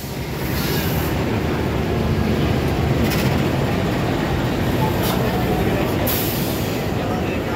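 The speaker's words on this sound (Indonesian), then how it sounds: "Di jalur 2 masuk rangkaian kereta api Taksaka tujuan ke Yogyakarta." The Taksaka passenger train bound for Yogyakarta rolls onto track 2 at a station with a loud, steady rumble and intermittent brief hissing bursts.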